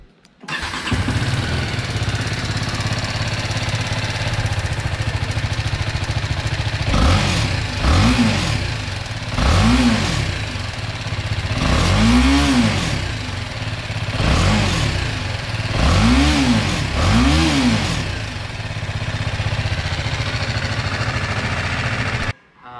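A low-cost BMW motorcycle engine starts up and idles, then is revved repeatedly in short bursts that rise and fall in pitch, loud and close with a steady idle between blips.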